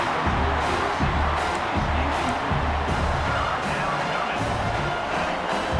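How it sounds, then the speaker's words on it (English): A dense, roaring stadium crowd in EA Sports College Football 26 at Ohio State vs Washington fills the scene, a constant loud din of many voices with no clear individual words. "wow, listen to this crowd noise. This stadium is vibrating."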